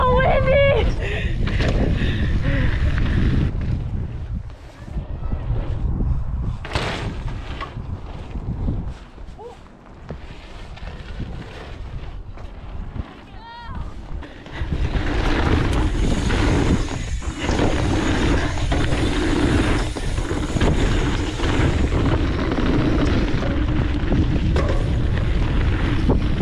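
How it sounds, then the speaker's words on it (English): Mountain biking on the Sedona slickrock slabs, with strong wind buffeting the microphone in a loud, continuous rushing roar. It grows heavier in the second half, and a rider's voice breaks in at times. "It's so windy."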